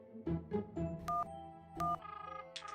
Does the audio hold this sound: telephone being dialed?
yes